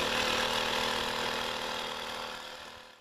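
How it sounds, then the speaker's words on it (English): An Abox 12V tire inflator compressor runs steadily, a dense, constant mechanical rattling drone held close and loud for the whole stretch, airing up a completely flat tire, easing slightly only at the very end. "while the compressor's running, the gauge is going to be reading what the compressor's putting out"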